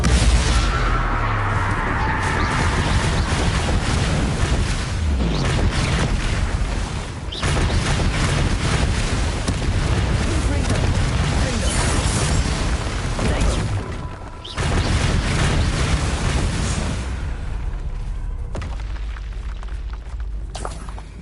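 A Confringo spell erupts in Hogwarts Legacy, loud sustained booming and crashing blasts with dense low rumble, continuing almost without pause and broken by brief dips.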